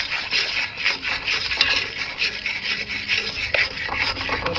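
Spice paste with coriander powder and salt stirred and fried in a pan for a Bengali fish curry, a continuous scraping and rubbing of a spatula against the pan with a faint sizzle, close and alone.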